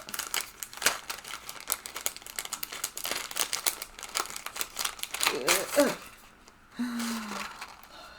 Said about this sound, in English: Sorry for any crinkly noises while I get this out.